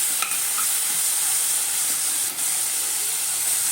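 Adamant creeper (pirandai) being sautéed in a pan for chutney, giving a steady, close sizzling hiss with a couple of faint stirring scrapes and no voices.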